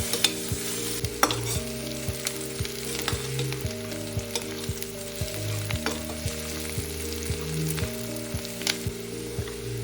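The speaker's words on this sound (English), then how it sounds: "Our onions are fried well, and now we can take it off the pan." Sliced onions deep fry in a pan with a continuous bubbling sizzle, punctuated by regular clicks and taps of a utensil stirring them, close up and without speech, with a faint steady hum underneath.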